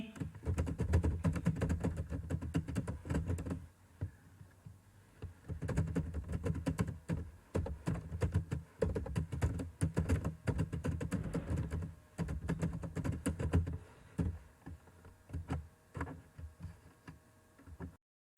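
Typing on a computer keyboard, a fast and steady clatter of close key taps that runs almost continuously with a few short pauses and no talk.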